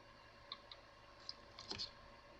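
Scissors snip the threads of handmade paper lace in a few faint, sharp clicks, sparse at first and then a quick cluster near the end, close and quiet against a low room hush.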